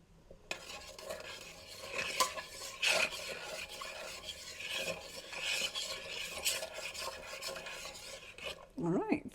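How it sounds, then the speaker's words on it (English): A spoon scrapes and stirs through breadnut (chataigne) and flake salt in a cooking pot, steady rasping rubs and metal clinks for several seconds, close and alone with no talking. "I'm going to give that a stir."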